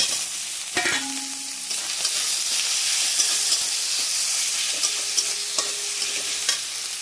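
Tomato frying with ginger-garlic paste in a pan gives a steady, close sizzle, with a few stirring scrapes and clinks over the constant hiss; nobody speaks.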